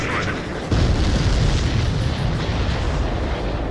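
Heavy booming explosions of supply ships in the air-combat video game Ace Combat 7, a loud continuous roar and rumble with a sharp blast near the start, under game voices and radio chatter.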